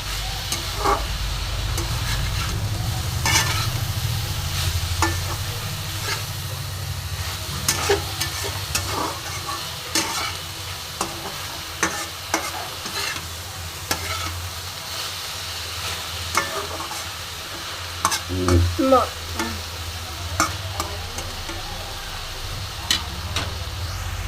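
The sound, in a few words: stir-frying beans and spinach on high flame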